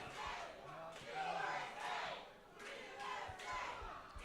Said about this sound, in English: As the crowd was chanting USA